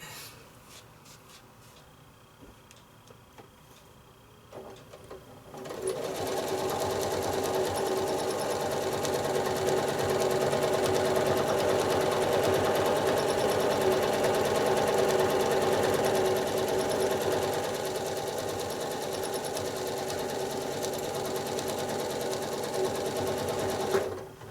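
Steady close hum of a sewing machine quilting straight lines across a 9 patch quilt block. A few quiet handling noises come first, then the machine starts and runs without stopping to the end.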